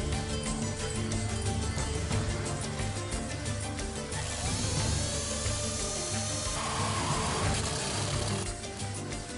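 A power drill bores holes in a plastic water tank for drain-pipe fittings. It makes a continuous grinding whir with rapid ratcheting clicks that rise and fall, close and loud, with no talking.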